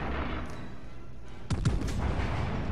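Battleship guns fire high explosive shells in the naval combat game World of Warships Legends, a quick cluster of heavy booming shots over low background rumble, without speech.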